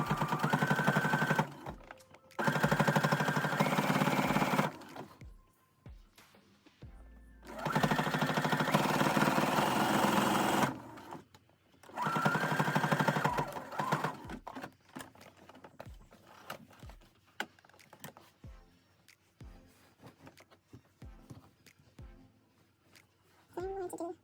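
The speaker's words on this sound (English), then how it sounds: "We're going to sew both sides" A sewing machine stitches down the sides of a shirt for a DIY ruched dress, running in four steady buzzing bursts of a few seconds each, separated by pauses filled with handling clicks and rustles, close to the listener.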